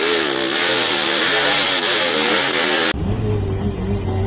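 Motorcycle engine running loud and close on a rough road, a steady broad rumble that drops to a lower, quieter idle-like drone near the end.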